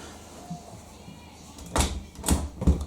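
A Hoover SIX AAA160 AAA Whisper 1600 washing machine door is handled, giving a few close thuds and clicks in succession as it shuts, with faint background room noise.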